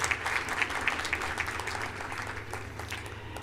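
Scattered, fairly quiet applause from a graduation ceremony audience, a light patter of clapping with distinct individual claps early on, heard at a distance over a low hum.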